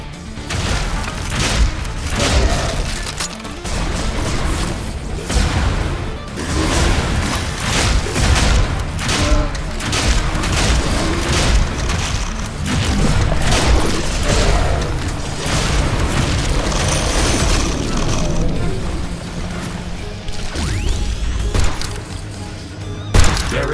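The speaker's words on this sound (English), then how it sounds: "Base is under attack. One of our portals has been destroyed. Wall destroyed. One of our buildings has been destroyed." Base buildings and walls blow up in the video game The Riftbreaker: a dense, loud barrage of booms, bursts and crackling blasts rolls on without pause for over twenty seconds, with a synthetic alert voice surfacing faintly now and then.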